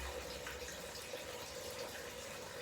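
A waterfall rushes in the background as a steady, even wash of flowing water, constant and moderately faint, with no other sounds over it.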